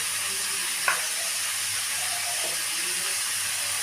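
Ginger paste with pumpkin and ridge gourd fries in a pan with a loud, even hiss and sizzle, broken by a single short scrape of a spatula.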